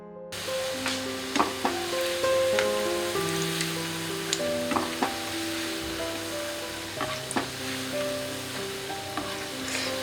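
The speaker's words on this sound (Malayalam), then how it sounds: "നമുക്കിനി ഇത് ഫ്രൈ ചെയ്തെടുക്കാം." Yeast dough balls for chak chak fry in hot oil, giving a steady fine sizzle and bubbling crackle with scattered pops, close and moderately loud, with no talking.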